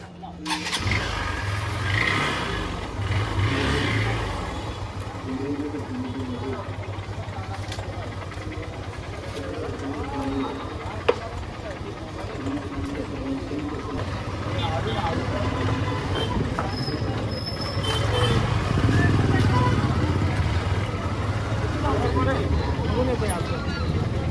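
A Honda Unicorn 160 motorcycle is ridden out, its engine a steady, close hum that swells slightly partway through, with people talking throughout.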